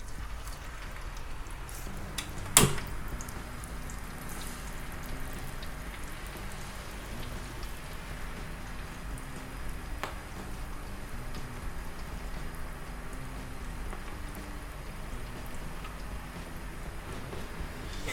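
Katsu curry McNugget pieces fry in hot oil with a steady crackling fizz of bubbling throughout, plus a sharp clack near the start and another soft knock later.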